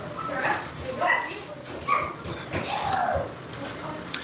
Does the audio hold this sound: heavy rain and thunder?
no